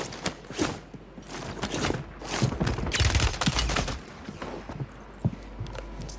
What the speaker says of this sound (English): I just got shot through the stairs!